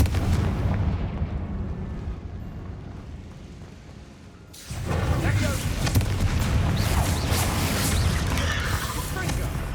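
A Confringo blasting spell explodes in the video game Hogwarts Legacy, a loud booming burst hitting around the middle of the clip and followed by sustained rumbling, crackling game noise.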